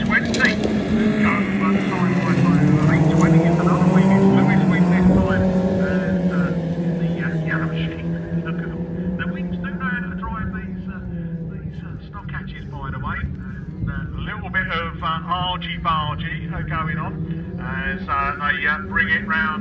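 Stock hatch cars race in an autograss heat, their engines revving loud and rising and falling as they speed around the dirt track, while a commentator talks continuously over the noise.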